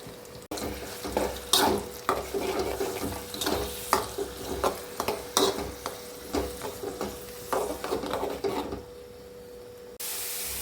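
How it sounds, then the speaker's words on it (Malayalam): Crushed onion, tomato, green chilli and garlic sautéing in a pan for crab roast, with a loud, continuous sizzle and rhythmic scraping stirs that stop near the end. "ഇത് നല്ല പോലൊക്കെ വഴറ്റി എടുക്കണം."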